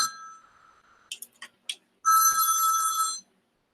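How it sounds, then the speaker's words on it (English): A telephone rings with an electronic trilling bell, a brief burst followed by a few small clicks and then a longer, loud sustained ring, close and alone. "The God phone is calling."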